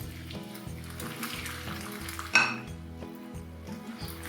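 Chicken chowmein with red, yellow and green chilies, chopped coriander and carrots is stirred in a pan, giving soft scraping and sizzling with one sharp metallic clink midway, close by and without speech.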